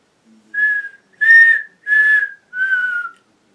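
A person whistles a short four-note tune from The Hunger Games: Mockingjay, each note clear and sustained, the last gliding slightly downward, close and loud against silence.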